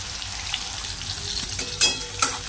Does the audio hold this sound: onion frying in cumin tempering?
yes